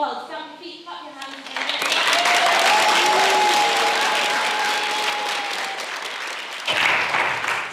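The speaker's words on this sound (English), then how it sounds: "Stamp your feet, clap your hands." An audience at a Bright Club Manchester comedy night bursts into loud, sustained applause with stamping feet, building quickly and holding for several seconds before tapering, with a voice over the top at the start and end.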